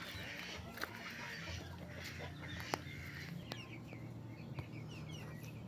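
Brahma chickens clucking and calling outdoors, a busy scatter of short clucks and occasional sharper calls over a steady low background.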